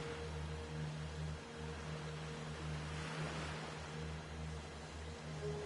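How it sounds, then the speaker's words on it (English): Ocean waves in the video game Like a Dragon, heard from a pirate ship at sea off Hawaii. A steady, moderate wash of water mixes with a low engine-like hum, with no talk. "These are some good waves."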